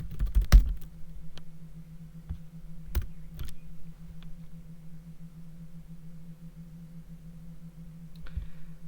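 Scattered keystrokes on a computer keyboard while a search is typed into Google, a few isolated sharp clicks spread over several seconds above a steady low electrical hum.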